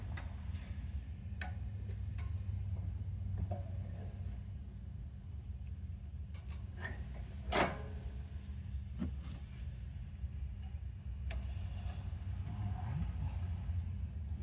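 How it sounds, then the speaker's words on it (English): Small metal parts of a throttle linkage being fitted onto a Snowdog carburetor give light, scattered ticks and clicks up close. One sharper clack stands out midway, over a faint low background hum. "Get our throttle linkage put on."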